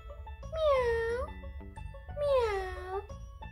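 A voice imitates a cat, giving two drawn-out meows with a pause between them, close and clear.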